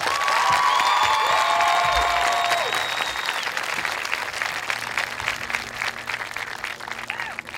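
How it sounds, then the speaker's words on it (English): A large crowd at a high school graduation ceremony applauds the graduating seniors' supporters with sustained, dense clapping and some cheering that gradually eases, while a voice speaks briefly over it at the start. "All right, seniors, so come on, give them a round of applause"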